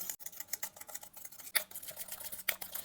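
Glycerin, aloe vera gel and vitamin E oil stirred together in a small container, faint soft scraping and tapping strokes in an irregular rhythm, quiet and close.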